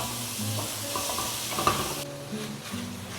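80-20 ground beef browns in a hot skillet, a steady close sizzle and crackle of frying meat with occasional scrapes and stirring knocks of a utensil against the pan.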